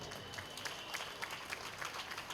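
Audience applause for the organising committee at a college Karam Feast dance competition, a steady dense patter of clapping throughout without pause.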